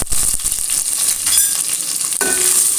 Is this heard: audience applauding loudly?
no